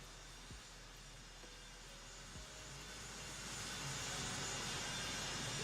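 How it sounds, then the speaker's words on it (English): An airplane engine at an airfield in the American Truck Simulator video game gives a steady broad roar that slowly grows louder toward the end, with no one talking. "It sounds like the plane is still here"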